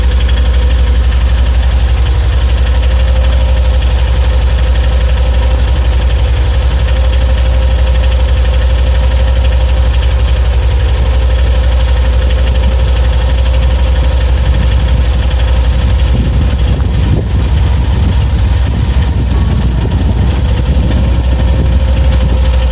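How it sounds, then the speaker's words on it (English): An air compressor recharges with a continuous low, loud, knocking motor hum. A steady drone holds throughout, with slightly rougher vibration toward the end. "Give it another couple minutes here for the compressor to recharge,"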